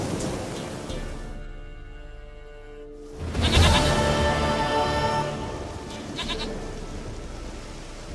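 A goat bleats in The Witcher 3: Wild Hunt, a fairly loud, drawn-out cry that rises after a near-silent gap, with a shorter bleat following amid steady outdoor game ambience.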